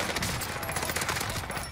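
Dense, continuous gunfire from the Warzone video game on Rebirth Island, rapid overlapping shots filling the whole moment at a steady loud level with no clear gaps.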